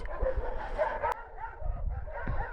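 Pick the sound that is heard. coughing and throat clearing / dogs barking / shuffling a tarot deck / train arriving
dogs barking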